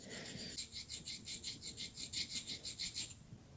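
A lathe tool bit is deburred on an oiled Norton stone, giving a rhythmic rasping of about a dozen quick back-and-forth strokes, soft and close.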